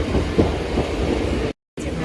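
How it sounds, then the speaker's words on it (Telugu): A train bound for Narsapur rumbles with a steady, loud broadband roar and faint rattling, cutting to silence briefly near the end before the noise resumes. "నర్సాపూర్కి ఇప్పుడే ట్రైన్ ఎక్కారు."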